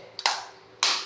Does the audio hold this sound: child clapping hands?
yes